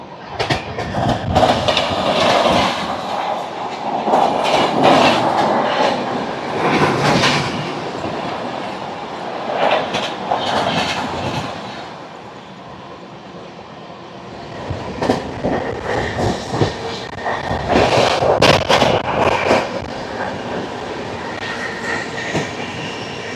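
A Garib Rath Express runs through Nekonda railway station without stopping, giving a loud, continuous rumble with repeated clickety-clack surges and brief wheel squeals. The sound eases midway, then swells again as more coaches pass close by.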